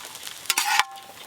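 Egg chowmein with vegetables tossed and stir-fried in a pan, a soft sizzle with a few scraping stir strokes, close and moderate in loudness, with no voices.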